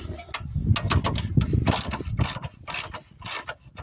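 A half-inch drive ratchet working a suspension bolt loose on a 2006 Ford Mustang during a lower control arm install, a rapid series of loud close metallic clicks in uneven bursts.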